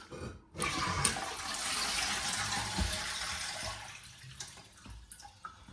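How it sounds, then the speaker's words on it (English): A just-repaired household toilet flushes with a loud, close rush of water that surges for several seconds and then tails off into gurgling and dripping refill sounds. "That was only half flush."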